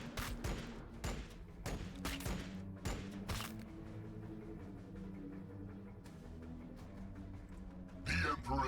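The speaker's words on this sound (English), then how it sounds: "you can blink away at those Termagants with your bolt pistol" A bolt pistol fires at Termagants in Warhammer 40k: Battlesector, a rapid burst of loud shots with impacts, then a low rumbling lull and a final crash near the end, with a voice speaking during the firing.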